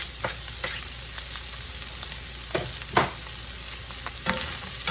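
Corn fries in a hot pan with other ingredients for cowboy pasta, giving a steady close sizzle broken by scattered clicks and scrapes of stirring.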